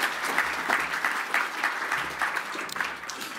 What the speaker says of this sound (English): So another round of applause for the whole organisation team.